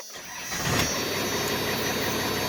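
A Dodge Ram 2500 diesel pickup, second generation, cranks briefly and fires up, then settles into a steady, loud, rumbling idle that holds without change.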